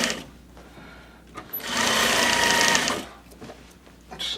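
A sewing machine stitching a half-inch seam through thick upholstery fabric for a club chair seat, one steady whirring run of about a second and a half between quieter fabric handling, close by.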